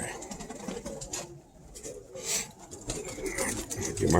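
Kit pigeons coo softly inside a loft, low throaty calls rising and falling among rustling and shuffling nearby, with faint human voices in the background.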